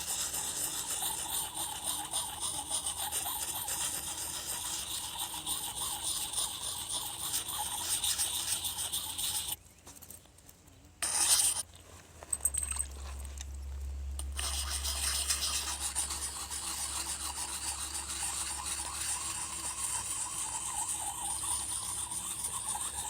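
Knife blade swiped repeatedly across a fine grit sharpening puck stone outdoors, a steady close rasping scrape that runs on, pauses briefly partway, then resumes with a low rumble underneath.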